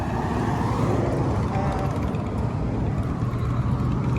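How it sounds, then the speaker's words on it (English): A car moving along a residential street, a steady low engine and road rumble that stays fairly loud throughout, with no clear speech over it. "There's a car wanting to come over."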